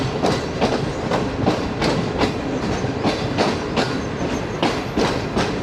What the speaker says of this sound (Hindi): 11:12 और टोबा टेक सिंह पहुँच गई है ट्रेन।